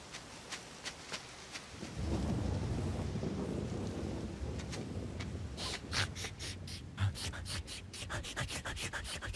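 Steady rain hisses under a low rolling rumble of thunder, loud and continuous, with a series of sharp cracks and clicks toward the end.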